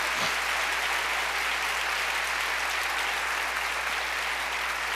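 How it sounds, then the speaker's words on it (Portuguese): A church congregation at a Baptist Sunday morning service applauds in a dense, sustained wash of clapping that stays steady and loud for the whole stretch, with no voices standing out. "Você pode dar um aplauso para Ele"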